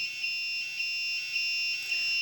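ESP32-driven active buzzer alarm sounding, a shrill steady electronic tone pulsing in a regular rhythm of about four beats, close and alone.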